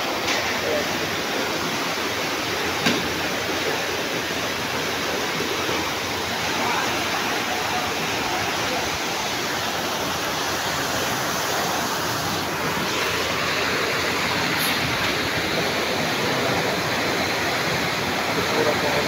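Water rushes in a steady, dense roar through a creek clogged with weeds and debris, continuous and close throughout, with wind buffeting the microphone.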